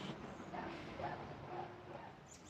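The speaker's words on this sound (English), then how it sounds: "Oh, we got the barking dogs, of course." Dogs bark and yip faintly in the distance outdoors at a Disney-area setting, their intermittent calls buried under a steady wash of background noise.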